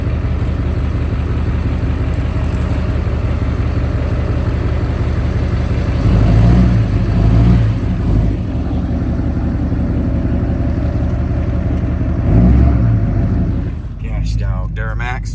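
A Duramax truck on 38x15.50 Mud Grappler tires rumbles through mud, its diesel engine droning low with two surges of revving, while voices talk inside the cab.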